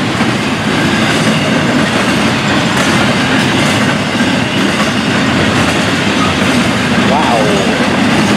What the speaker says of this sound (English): Wow, what a train.